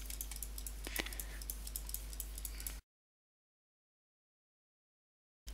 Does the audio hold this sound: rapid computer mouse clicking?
yes